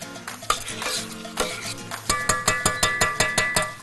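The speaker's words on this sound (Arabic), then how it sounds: "شوف سيبها بقى كده غلوه واتنين" Shrimp cream soup simmering in a pot while a spoon stirs it, first loose scraping, then a steady run of rhythmic clinks against the pot's sides, close and fairly loud.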